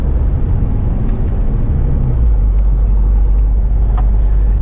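A 2004 Jeep TJ fitted with a DPG off-road lift kit drives through snow, its engine giving a steady, loud, low rumble from start to finish, with no voices.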